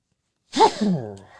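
A single sharp sneeze bursts out from silence, close and fairly loud, trailing off into a short voiced exhale.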